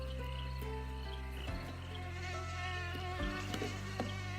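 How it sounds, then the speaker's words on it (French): A mosquito with delicate wings whines steadily and alone, a sustained buzzing drone whose pitch shifts slightly as it hovers close by. "Voilà que vrombit, non loin de lui, un moustique, aux ailes finement ciselées."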